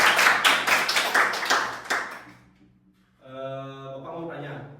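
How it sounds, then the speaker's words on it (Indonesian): Elementary school children in a classroom clap together in a quick burst of about a dozen sharp, fairly close claps lasting two seconds, followed by a voice speaking. "Beri tepuk tangan"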